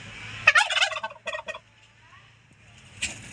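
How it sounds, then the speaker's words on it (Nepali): A turkey gobbles nearby at Lama Hatta near Darjeeling, giving one loud rapid burst of gobbling followed by a shorter second call and a brief faint call after a pause. "यहाँनिर टर्की हेर्नुहोस् है"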